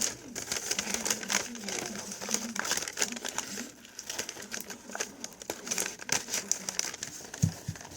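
Scissors cutting the bottom off a paper bag, giving close, rapid crinkling snips and paper rustling throughout, along with some background noise.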